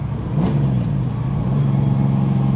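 A 1965 Ford Mustang V8 convertible with a manual gearbox revs briefly as it is downshifted into second, a steady mid-pitched engine drone rising slightly, close and fairly loud with no speech.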